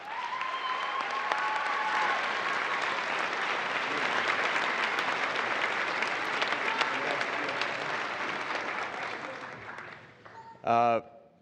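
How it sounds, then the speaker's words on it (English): A graduation ceremony audience applauds for Artemis astronaut candidates: dense, steady clapping from a large crowd fills about ten seconds, then fades out, with a brief separate burst near the end. "Please join me in a round of applause for them as well"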